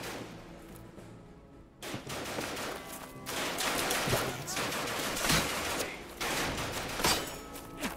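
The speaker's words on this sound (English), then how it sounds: "Jesus, is someone shooting at me?" Enemy soldiers firing on the player in the war game Ad Infinitum: a dense, ongoing fusillade of overlapping gunshots and sharp cracks at moderate level, with a brief quieter gap near the start.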